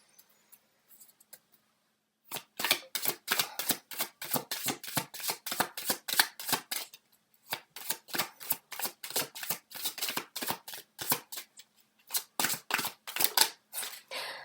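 Tarot cards are shuffled in close, crisp bursts of rapid riffling and flicking, in two long runs separated by a short pause, with quiet moments at the start.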